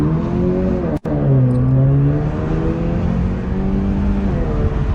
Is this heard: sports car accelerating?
yes